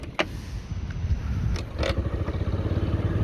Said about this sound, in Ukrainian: Перевіримо кікстартер.